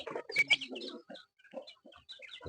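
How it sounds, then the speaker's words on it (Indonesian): Month-old free-range village chickens cluck and chirp close by in brief, overlapping calls with short gaps between them. "Nih, ini ayam saya ini sebulan ini."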